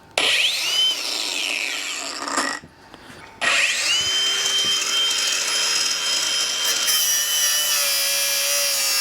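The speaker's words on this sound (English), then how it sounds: "I can just get the grinder out." Angle grinder cutting metal on a bucket bike in a shed, a loud continuous whine that stops briefly near the middle and then resumes steadily.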